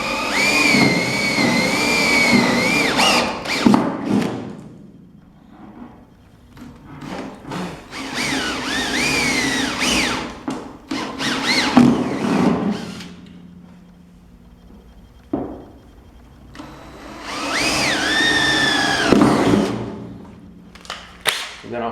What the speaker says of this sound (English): I'm going to drill a pilot hole in each one of these